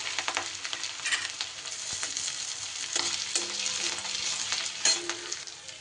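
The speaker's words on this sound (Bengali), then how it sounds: "10 থেকে 15 সেকেন্ড আদাটা নাড়াচাড়া করে নিয়ে" Grated ginger sizzles in hot oil as it is stirred, a close crackling fry with light scraping spoon strokes throughout.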